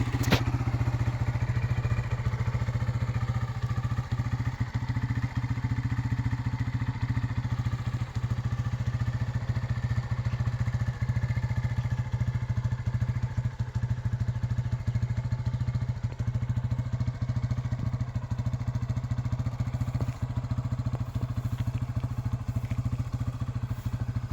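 A stock Honda Sonic motorcycle with a kick starter idles steadily for the whole stretch, a low, even engine drone with light mechanical clatter and faint ticking, close by with no talk over it.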